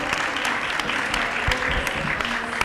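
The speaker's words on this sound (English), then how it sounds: "Please, a hand of applause to the Commissioner for Health." An audience at a climate and health event applauds the Commissioner for Health with steady, dense clapping that holds evenly throughout at close range.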